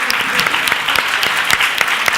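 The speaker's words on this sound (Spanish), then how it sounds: "yo creo que vamos a dar un aplauso" Audience applause at a panel session on political parties and the environment, a steady wash of many hands clapping, dense and sustained, with no talk over it.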